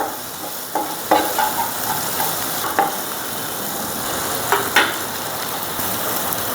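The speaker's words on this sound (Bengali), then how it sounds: "দিয়ে দেবো চিংড়ি মাছ। হালকা একটু ভেজে নেবে।" Prawns fry with chopped garlic in a pan, giving a steady sizzle up close, broken by a few sharp clinks and scrapes of a spatula stirring. No one speaks.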